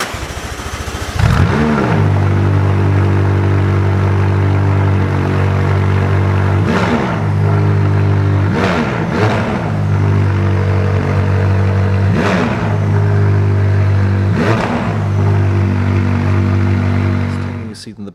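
A McLaren 570GT engine cranks and fires with a loud bark, then settles into a rumbling idle punctuated by several sharp throttle blips and revs, heard close up throughout.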